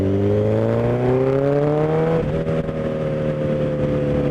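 A 1000 motorcycle in third gear pulls hard, its engine whine climbing steadily in pitch, then dipping briefly at a shift before droning on, loud and close with wind rush underneath.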